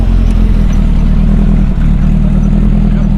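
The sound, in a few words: car engine running, 2-litre flat-four 16-valve turbo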